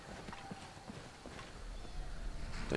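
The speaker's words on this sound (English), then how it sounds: "Whoa, horse." A horse in the video game Skyrim clops along with faint, evenly spaced hoofbeats in the distance. A low rumble builds near the end, and there is no talking.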